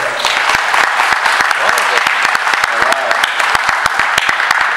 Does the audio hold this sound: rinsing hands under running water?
no